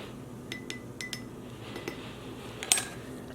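Spoons clink and tick against containers while tiny amounts of dye powder are measured out, a few sparse, light metallic chinks spread across a quiet room, with one brighter clink near the end.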